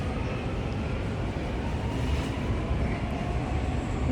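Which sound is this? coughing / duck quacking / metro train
metro train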